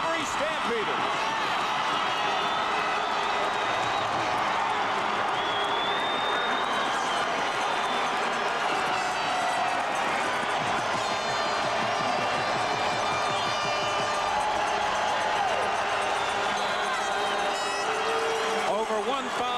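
A stadium crowd roars steadily after a Calgary Stampeders touchdown at the 1991 CFL Western Final against the Edmonton Eskimos. The cheering and applause hold at a constant level under a commentator's voice.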